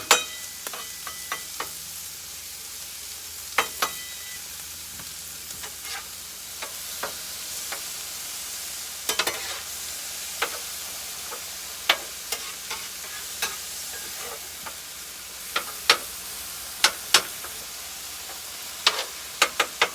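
Meat and onions sizzling on a flat top grill while a stromboli is being made, a continuous hiss broken by scattered sharp ticks and pops, with no talking.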